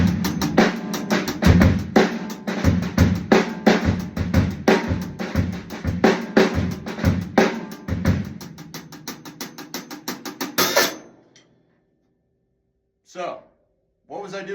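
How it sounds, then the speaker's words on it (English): A drum kit groove played with Moeller technique, the hi-hat strokes accented in a flowing pattern over kick and snare, close and loud for about eleven seconds before stopping, followed by brief faint sounds. "what we do is utilize Moeller Technique, and it would sound like this."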